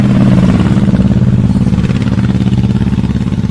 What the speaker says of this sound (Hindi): अपनी मोटरसाइकिल पर बैठकर वहां से निकल गया था